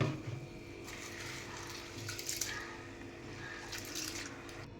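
Urad dal being rinsed in water for Kerala-style vada batter, a steady soft sloshing and trickling close by, fairly quiet and continuous with faint clinks.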